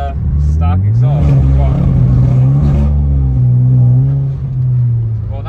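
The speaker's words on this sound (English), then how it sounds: "Get one last clip of that stock exhaust." An N-Line car's non-stock, untuned exhaust rumbles loudly up close, the engine note rising as it revs and then holding a deep steady drone, with voices briefly talking over it.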